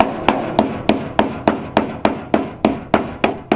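A hammer strikes a nail into a car body in an even rhythm, eleven sharp, loud, close metallic blows spaced about a third of a second apart, each ringing briefly before the next.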